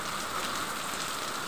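Steady rain falls and patters continuously on surfaces, a dense even hiss with scattered drop impacts, close and moderately loud with no voices.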